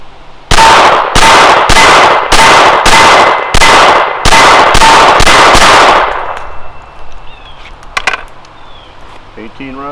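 A Glock 44 fires a rapid string of about nine loud Mini Mag rounds from a ProMag 18-round magazine, the sharp cracks evenly spaced, followed by quieter handling noise and faint ringing.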